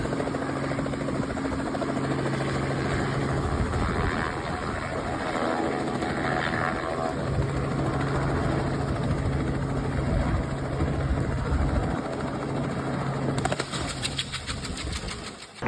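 A helicopter runs close by with a constant loud engine and rotor drone that holds steady throughout, with no talking.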